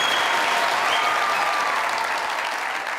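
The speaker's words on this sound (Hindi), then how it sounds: "तालियां सिद्रा के लिए।" A studio audience on the Mazaq Raat comedy talk show applauds guest Sidra Niazi with a loud, even wash of clapping that holds steady for several seconds and eases slightly at the end.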